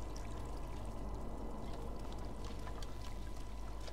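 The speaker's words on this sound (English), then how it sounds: "Water." Steady broadband rush of flowing water running through a sewer in the video game Stray, a continuous even wash that fills the scene without pause.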